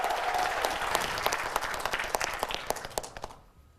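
Large audience applauding at an Army Third Military Academy 57th class graduation and commissioning ceremony in Korea: dense, steady clapping with sharp individual claps that thins and fades out near the end.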